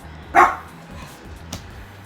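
A single sharp dog bark close by, followed by a faint softer sound a moment later, over a quiet background.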